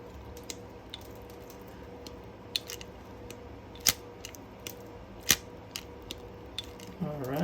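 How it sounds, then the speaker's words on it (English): Crimping tool pressing an RJ45 connector onto a network patch cable: a few sharp, close clicks and snaps spaced over several seconds, quiet between, with some handling rustle. "Now all I have to do is just crimp it."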